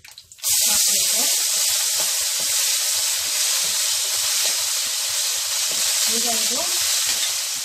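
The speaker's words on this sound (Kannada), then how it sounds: "ಹಸಿ ವಾಸನೆ ಹೋಗುವ ತನಕ ಇದನ್ನು ಫ್ರೈ ಮಾಡಬೇಕಾಗುತ್ತೆ" Ginger garlic paste fries in hot oil in a pan with a loud, continuous sizzle and occasional stirring scrapes, while a voice speaks briefly at the start.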